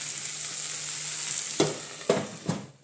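Onion and pepper frying in a pan: a steady, close sizzle that runs throughout, with a few sharp stirring scrapes near the end before it fades out.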